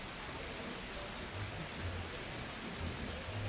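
Rain falling steadily outdoors, a continuous broad hiss with faint low rumbles that could be distant thunder, no voices present.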